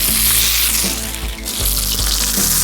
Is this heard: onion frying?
yes